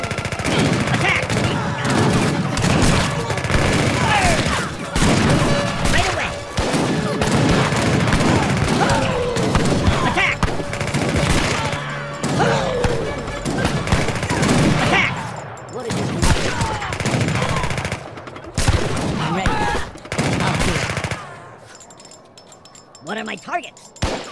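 Age of Empires 3 musket gunfire in a dense battle: rapid overlapping volleys and bursts crackle almost continuously for over twenty seconds, with booms mixed in, game voices and gasps heard over it, thinning out near the end.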